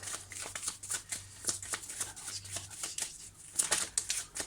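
Tarot cards being shuffled and drawn by hand, a quick run of soft papery riffles and flicks close up, fairly quiet over a faint background hum.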